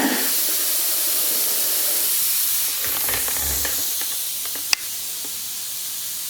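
A pressure cooker of lentils vents steam in a steady, loud, continuous hiss, with a few faint clicks and a sharp tap near the end.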